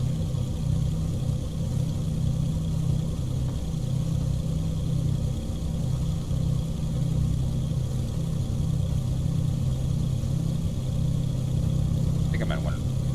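A Carenado B58 Baron twin-engine aircraft in X-Plane 11 taxis backward along the runway, its steady low engine drone humming at a constant idle throughout, with a brief faint click near the end.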